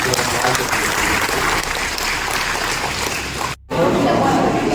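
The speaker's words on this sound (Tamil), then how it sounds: "அவங்களுக்கு மீண்டும் உங்கள் அனைவரின் சார்பாகவும் சரி மாவட்ட நிர்வாகத்தின் சார்பாகவும் பலத்த கரகோஷம்" A crowd claps steadily in sustained applause at a public grievance meeting in a district collector's office, dense and loud, with a brief cut near the end before the clapping resumes.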